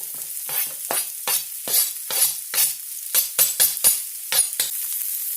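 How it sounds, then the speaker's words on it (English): Broccoli and red pepper sizzle steadily in a hot pan, broken by a run of brisk scraping stirs from a utensil, close and loud. "So we're going to go in with our broccoli and get that in the pan. Let that start cooking. And our red pepper."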